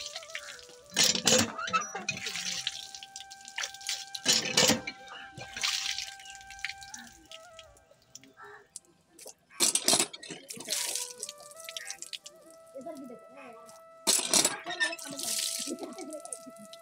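Cold spring water runs and splashes at Manikhola park in intermittent bursts of close trickling and splashing, separated by quieter gaps, with a faint tonal hum in the background.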